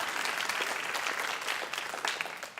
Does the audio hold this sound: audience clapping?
yes